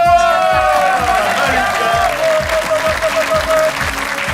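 A large Belgian comedy-show audience applauds loudly and steadily, dense clapping filling the room with a few cheers and a rising whistle over the top.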